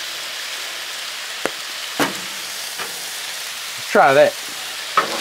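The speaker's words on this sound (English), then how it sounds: "As you see, that steak is cooking up quick." A steak sizzles on a Blackstone griddle in a steady hiss of frying, with a few spatula taps, while a voice speaks briefly over the sizzle.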